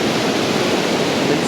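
Tahquamenon Falls in Michigan rushing steadily, a dense, continuous broadband roar of falling water that stays loud and even from start to finish with no voices over it.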